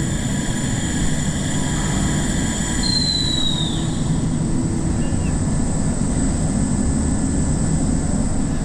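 A paint booth heater runs steadily in a spray booth during clear coating of a Nissan Patrol, a loud continuous broadband roar with a low rumble, unbroken throughout and with no talk.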